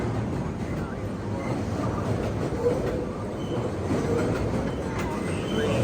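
A New York City subway train rumbles steadily along the tracks after power is restored, a loud continuous roar with faint rattling and screeching throughout.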